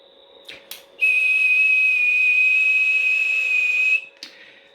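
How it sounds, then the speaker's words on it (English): A steady, loud whistled tone holds for about three seconds without wavering, with brief clicks and handling noises just before and after. It is heard in a workshop where an sBE Sidebander 5 radio is under repair. "I'm not really good at whistling."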